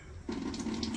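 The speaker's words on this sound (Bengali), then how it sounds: "ওই যে পানি ছাড়ছে" Water starts running from a tap in a village home, a faint pause followed by a sudden steady gush and hum of flowing water that carries on to the end.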